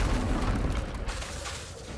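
A Confringo blasting spell goes off in Hogwarts Legacy, a dense rumbling boom with low crackle that holds steady for about two seconds before easing slightly, loud and close with no voices.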